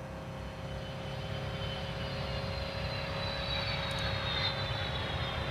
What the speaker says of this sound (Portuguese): Barulho de avião, né?